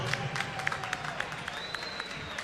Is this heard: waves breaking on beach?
no